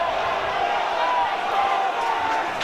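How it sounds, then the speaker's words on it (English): Rugby league crowd at a Warrington versus Leeds match in 2010 yells in a steady, distant stadium roar, with commentary voices running over the noise. "Crowd underneath us yelling that was a touch forward"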